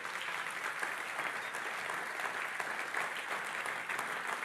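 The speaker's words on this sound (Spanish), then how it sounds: "Dale un aplauso a Jesús en esta mañana." A church congregation applauds during a Sunday morning service, a continuous, evenly sustained wash of many hands clapping at moderate distance, with no talk standing out.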